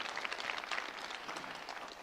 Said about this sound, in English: let's give them a round of applause ahead of time